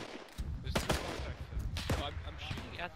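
Video game gunfire crackles in scattered bursts of sharp shots, some near and some distant, under quiet background game noise.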